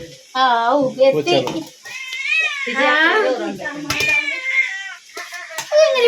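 Kittens in a Kerala home give loud, close, repeated meows in overlapping wavering cries, with hardly a pause between them.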